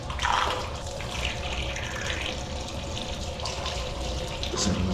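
A water pump drawing water rushes and gushes steadily, pushing flow through a pipe, loud and close with surging splashes throughout.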